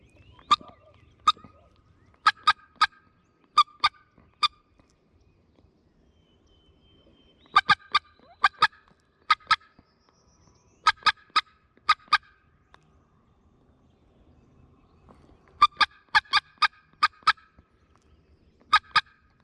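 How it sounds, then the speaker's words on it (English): Wild turkeys gobble in loud, rapid bursts at several points in the Kentucky woods during a turkey hunt, with quiet gaps between the calls. "Turkeys gobbling everywhere"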